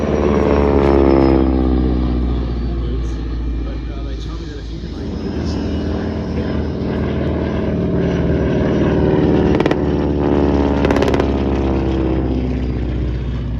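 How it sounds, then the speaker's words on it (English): A Harvard IIa trainer with its Pratt & Whitney R-1340 nine-cylinder radial engine drones loudly overhead at an air show, the pitch sliding as it passes, while an announcer's voice talks over the engine. "So the Harvard, powered by the Pratt & Whitney RB1340, 9-cylinder radial, 600 brake horsepower."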